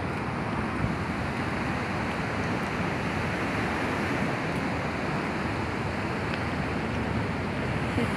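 Sea surf rolling onto the shore at Kota Karang, a steady broadband wash of waves with some wind rumble, constant and moderately loud throughout, no voices.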